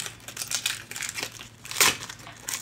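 Crinkling and light tearing of a cardboard packaging card as a small plastic funnel tip is pulled off it, close and quiet, a short run of crackles with one louder rip near the end.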